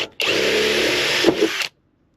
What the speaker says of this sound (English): I'm drilling in aluminum, so it's easy to stay on the hole there.